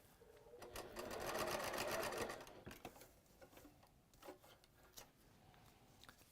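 A sewing machine stitching fabric along a marked line, a fast, buzzing whir that runs for about a second and a half and then stops, followed by softer handling and rustling of the fabric.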